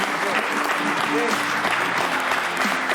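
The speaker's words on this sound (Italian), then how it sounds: "Facciamo un applauso agli allenatori." Audience applauding youth sports coaches at a sports event, continuous even clapping from a crowd, with a voice speaking faintly underneath.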